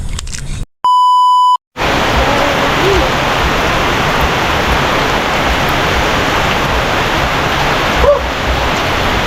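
Heavy rain pours down in a dense, steady roar that fills the space, close and loud throughout, after a short electronic beep near the start.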